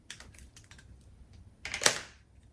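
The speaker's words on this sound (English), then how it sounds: "I'm going to take one of these droppers, and I'm going to cut the top off" Scissors snipping the top off a small plastic dropper while making lip gloss, a few light ticking handling sounds followed by one crisp plastic cut near the end, close and quiet.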